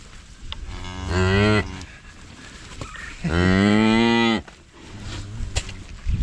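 Cattle setting where a calf is being tagged and treated: two long, loud moos with a strong harmonic stack, the second fuller and longer, separated by quieter shuffling and handling noise.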